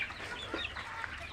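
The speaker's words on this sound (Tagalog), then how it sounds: "mga free range na manok, hybrid yan" Free-range hybrid chickens cluck softly on a farm under shady trees, a few faint scattered clucks over a quiet background.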